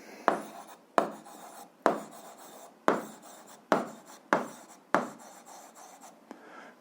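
A pen writing an algebra answer on paper, eight quick scratchy strokes in an uneven rhythm, close and faint, with no talk.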